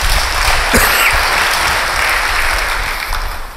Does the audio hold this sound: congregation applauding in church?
yes